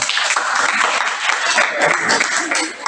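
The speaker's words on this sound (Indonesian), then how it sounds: "Tepuk tangan buat Gabriel" Classroom applause for a student named Gabriel at a high school lesson, a dense, continuous patter of many hands clapping close by for a few seconds.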